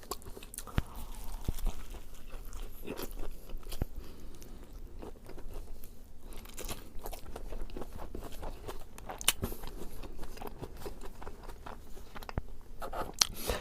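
Close, crunchy bites and chewing of a cheesesteak repeat steadily, with wet crackly munching and no talking.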